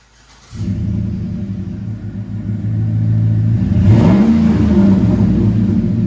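A 2007 Chevy Silverado 5.3L V8 with dual Flowmaster 40 Series exhaust idles with a low rumble, then revs up around the midpoint, the pitch sweeping higher before settling into a loud, steady burble.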